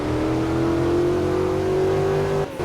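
A Lotus car in the Greenville video game accelerates toward top speed, its engine note rising steadily in pitch as one long, loud, continuous pull that cuts off near the end.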